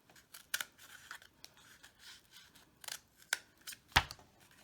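Scissors snipping through folded paper during a kids' library craft, a handful of separate crisp cuts spread out irregularly, close, with one sharp louder snip near the end and no talking.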